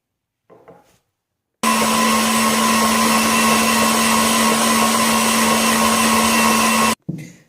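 An electric mixer beats egg whites with vinegar and sugar for a sponge cake, giving a steady, loud, continuous motor whir that runs for about five seconds and then stops abruptly.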